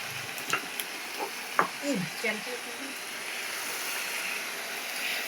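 Tomato and pumpkin stirred in a pan for a paneer curry, giving a soft continuous sizzle with a few light scraping knocks early on, and a voice speaking briefly over it.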